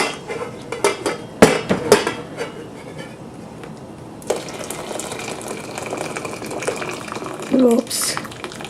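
Potato soup being poured from one pot into another in a home kitchen, with clanks and scrapes of metal pots at the start, then a continuous liquid splashing and trickling, with a voice talking over it.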